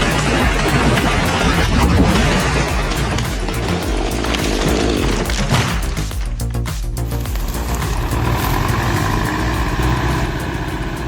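A Zator 6211 tractor of about 60 horsepower hauls roughly 15,000 pounds of processed wood out of a forest, its engine a loud, steady drone with a chainsaw-like rasp running throughout and no talk.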